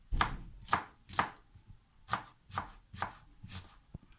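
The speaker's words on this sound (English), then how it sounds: "grabbing one of your shallots and chopping them finely" A knife chops shallots finely on a cutting board, giving about eight crisp, evenly spaced close knocks with no talking.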